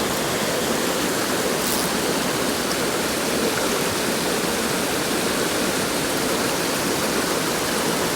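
Fast-flowing water in a small Pennsylvania mountain stream rushes in a constant, close, dense roar throughout, with no talk.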